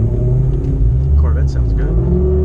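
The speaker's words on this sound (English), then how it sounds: "At wide open throttle, third gear, getting a little bit of RPM." A Mustang engine revving at wide open throttle in third gear on a freeway, a loud, close, steady low rumble that holds throughout.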